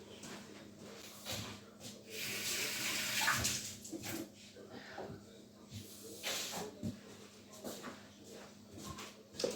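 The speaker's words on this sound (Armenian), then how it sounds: "Ձեռքերս լվանամ։" Tap water runs while someone washes their hands, a hissing stream broken by splashes and rubbing. It is close but faint, with no talk.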